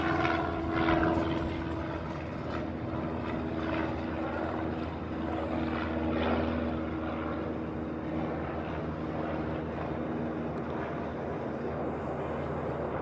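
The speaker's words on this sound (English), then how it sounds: "Next arrival on 8 left will be the 3rd Japan Airline flight of the day. It's also coming in from Tokyo." A Japan Airlines Boeing 767 arriving from Tokyo on approach to Honolulu's runway 8 left gives a steady, distant jet roar that holds evenly throughout, with no talk over it.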